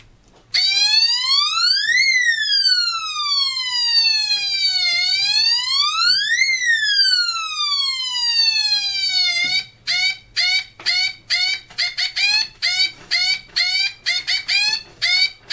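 A loud electronic siren from a water-leak detector alarm wails up and down in slow ambulance-like sweeps, then switches to rapid, choppy bursts of beeping tones.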